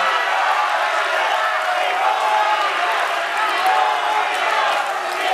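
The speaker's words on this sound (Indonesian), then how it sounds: "Sekarang kami berikan kesempatan kepada masing-masing pendukung untuk memberikan aplaus dan juga apresiasi." Supporters at a televised gubernatorial election debate in Indonesia applaud and cheer in a dense, steady wash of clapping and crowd noise, sustained at even loudness throughout with no pauses.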